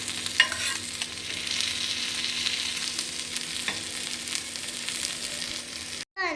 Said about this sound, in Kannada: ಈಗ ಸ್ವಲ್ಪ ಫ್ರೈ ಮಾಡ್ತಾ ಇದ್ದೇನೆ